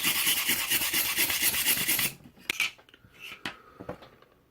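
Harsh, continuous rasping scrapes of paint being stripped from the wood of an ice house build for about two seconds, then a few short, scattered scrapes and taps, close to the microphone.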